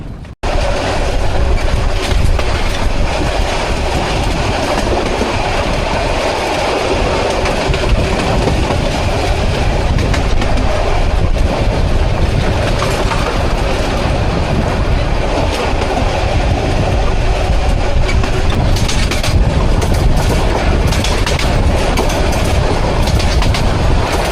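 A passenger train in rural Bangladesh runs along the rails with a continuous loud roar and rhythmic clickety-clack of wagon wheels, heard close from on board for a long unbroken stretch with no talking.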